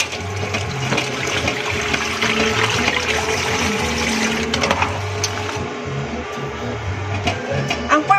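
Fish being washed in water for a sour sinigang soup makes running and splashing sounds that carry on throughout, up close, with faint talk now and then.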